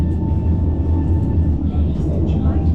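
The Heritage Train pulls out of Da Nang station past houses built right beside the tracks, giving off a loud, steady low rumble and rolling rail noise from close by.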